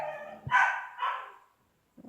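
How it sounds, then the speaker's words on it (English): Dogs bark outdoors in a few loud, close bursts, followed by a brief pause and then a fainter bark, with no talking over them. "Dogs barking."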